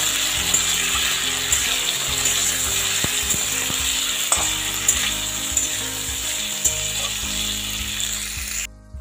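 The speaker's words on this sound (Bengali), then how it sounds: "এবার আমি ডাঁটাগুলো দিয়ে দেব। খুব ভালো করে মিশিয়ে নেব।" Potatoes and drumsticks fry in a pan over a high gas flame, a steady dense sizzle with intermittent scraping and knocks from stirring, no voices.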